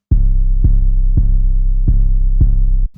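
Deep trap 808 bass notes from an FL Studio beat, five heavy booming hits in a steady spaced rhythm, each with a sharp click attack and long sustained low tail, loud and alone.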